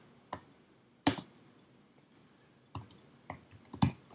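Sparse clicks of a computer keyboard while typing code in Xcode, a handful of separate keystrokes spaced irregularly with gaps between them, then a small cluster near the end, close and crisp against a quiet room.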